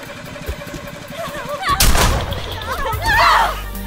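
Gunfire from the Friday the 13th video game, a sharp report near the middle followed by a second loud burst, with excited talk and gameplay noise around it.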